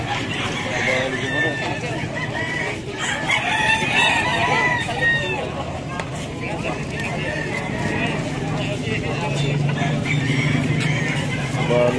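Roosters crow and chickens cluck continuously at a busy fighting-cock market in Malasiqui, Pangasinan, with people talking underneath.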